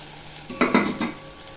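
Vegetables with onion and tomato fry in oil in a pan for ragi khichdi, a short close sizzle broken by three quick bursts of stirring scrapes.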